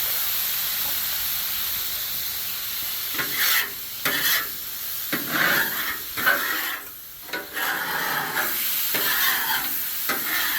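A hot Blackstone griddle top is scraped clean after cooking chicken, a loud sizzle and hiss running throughout with repeated rasping strokes of a metal scraper across the steel.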